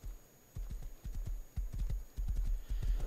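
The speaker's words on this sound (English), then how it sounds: "This poor horse is getting tired." Horse hooves clip-clop in the video game Rust, a steady run of short, close thuds in quick uneven clusters with brief pauses between bursts, and no talking over them.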